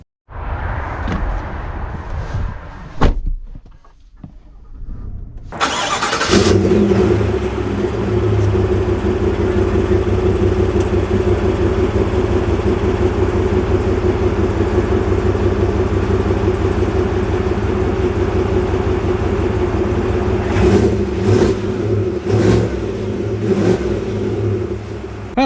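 A 2025 Chevy Tahoe Z71 with its 6.2L V8 starts up and drives, settling into a loud, steady engine drone that stays close and constant, with a few brief knocks and rattles near the end and no talking.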